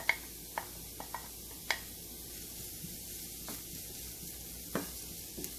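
Chopped ginger and curry leaves fry over sautéed onion in a pan, a steady low sizzle broken by scattered sharp ticks and pops, close and fairly quiet, with no talking.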